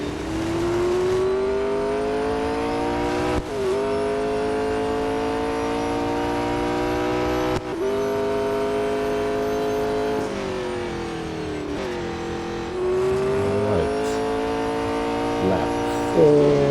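A 2019 McLaren 720S GT3 race car in Real Racing 3 screams along at high revs, its engine note climbing steadily and dropping sharply at each upshift, loud and continuous.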